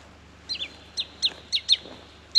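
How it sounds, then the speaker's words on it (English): A bird gives a series of short, sharp chirping calls, about six in quick succession, fairly faint over a low steady background hum. "That annoying bird. He's making a lot of noise."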